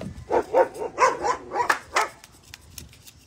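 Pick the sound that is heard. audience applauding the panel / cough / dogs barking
dogs barking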